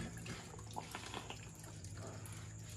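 Coolant drains from a Yamaha R25 motorcycle radiator in a soft, trickling splash with scattered drips, faint and steady against low background hum.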